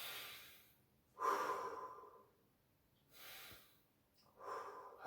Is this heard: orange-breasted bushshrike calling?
no